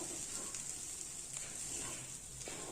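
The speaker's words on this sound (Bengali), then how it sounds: "2 মিনিট ভালোভাবে 2-3 মিনিট খুব ভালোভাবে ভেজে নেব" Bitter gourd and potato pieces fry in a pan without water, giving a steady, close hiss of sizzling oil with faint clinks now and then and no speech.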